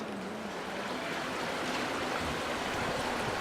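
Water splashes steadily from a stone fountain in the old town of Bern, Switzerland, a continuous broad rushing hiss heard close and fairly loud, with no voices over it.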